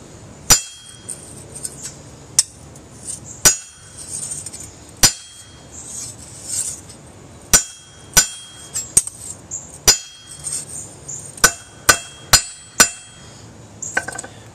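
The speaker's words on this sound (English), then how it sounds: "I am deforming it when I hit it with the hammer" A hammer repeatedly strikes a mild steel bar, giving sharp metallic clanks at irregular intervals, loud and close with quiet ringing between blows.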